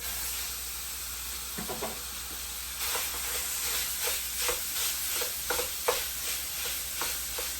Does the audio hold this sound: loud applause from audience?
no